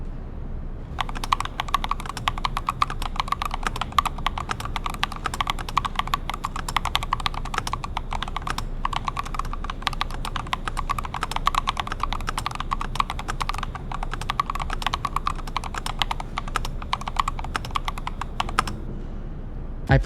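Continuous fast typing on an affordable, budget customizable mechanical keyboard, dense rapid keystrokes clattering close and steady throughout with no talking.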